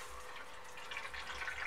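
Water runs steadily into an automatic washing machine, passing through the soap dispenser drawer, as a quiet, even hiss and trickle with no break.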